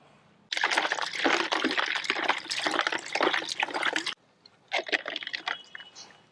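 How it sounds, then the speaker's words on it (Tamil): Ice-cold water mixed with ice is sprayed forcefully from a hose onto a cow's udder after milking, a loud continuous hissing gush that stops abruptly, then resumes in a shorter burst. "இந்த ஐஸ் கட்டியை வந்து பச்சை தண்ணியில் கலந்து கால் பால் கறந்து முடிச்சதுக்கப்புறம் அடிச்சு விட்ருவோம்"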